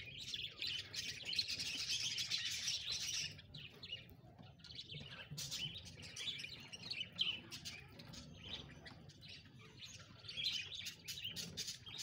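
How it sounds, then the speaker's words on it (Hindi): A small brood of three or four Java sparrow chicks chirps continuously at close range, thin high tweets coming in bursts with brief lulls. "दोस्तों 3 या 4 चिक्स है माशाल्लाह।"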